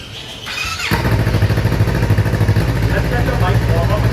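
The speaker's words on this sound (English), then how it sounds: "now let's hear what the current setup sounds like" A Yamaha R3 motorcycle on its stock exhaust starts up and settles into a loud, close, steady idle with a rhythmic pulsing burble, while a person talks over it.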